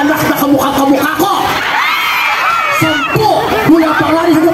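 A large crowd at the Kapangyawan friendship festival 2024 shouts, whoops and cheers loudly all together in sustained waves, with a voice briefly audible between the bursts.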